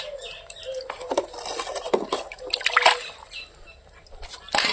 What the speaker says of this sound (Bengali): আমি মাছগুলো জল থেকে তুলে নিয়ে কাটাকাটি করে নেব।